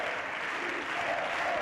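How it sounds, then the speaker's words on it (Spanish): Steady applause fills a Spanish parliament chamber during a government investiture session, a dense continuous clatter of many hands, loud and even throughout with no speech over it. "Siguen los aplausos"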